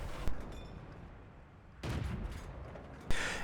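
Tank cannon shots in a tank video game with an AMX 13 57 light tank firing at range: sharp, loud reports, each followed by a rumbling tail and a few seconds of quieter ambience between blasts.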